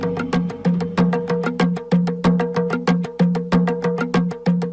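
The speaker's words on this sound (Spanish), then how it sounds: "tocando reproducciones de tambores de hace 4000 años encontrados en Europa." Replica drums modeled on 4000-year-old European finds are struck in a steady, fast rhythm, each hit a sharp broadband thump with a deep booming tone ringing underneath, close and loud with no talking.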